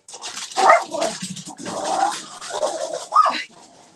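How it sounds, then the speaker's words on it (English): Several dogs bark and yelp in scattered bursts, a little distant and echoing, with no voices over them. "my dogs are over there freaking out because they hear the dogs next door out"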